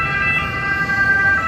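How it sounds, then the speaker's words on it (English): An ambulance siren wails through the streets of Naples near the central station, a loud steady tone cutting over low traffic rumble for the whole moment. "That's the sound of an ambulance"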